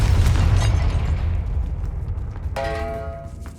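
A loud, booming fire-spell explosion in Hogwarts Legacy bursts at once and rumbles as it fades, followed by a ringing, bell-like magical tone.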